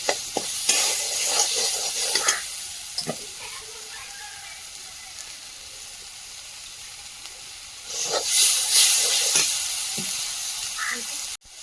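Potatoes frying in a pan as salt and turmeric are added, with a close, continuous sizzle and hiss, intermittent stirring clicks and a louder burst of frying near the end.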